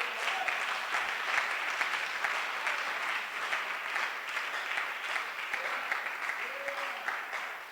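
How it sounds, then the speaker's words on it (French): A church congregation claps and cheers for the Lord in one sustained burst of dense applause that fills the room evenly throughout. Scattered voices shout within the crowd. "Est-ce qu'on peut acclamer le Seigneur?"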